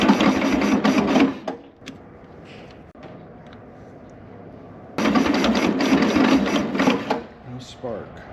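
A 1968 Volkswagen Beetle engine with no spark cranks without starting, in two rhythmic, chugging bursts separated by a few seconds of quieter background.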